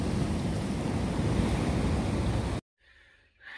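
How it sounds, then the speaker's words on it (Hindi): Sea waves surge and crash onto the shore in Malta, a loud continuous roar of surf with wind noise lasting over two seconds, then cutting off to a faint quieter wash. "ये बड़ी आएगी, ये सबसे बड़ी लहर आई है,"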